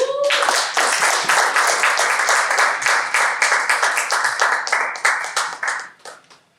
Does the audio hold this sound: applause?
yes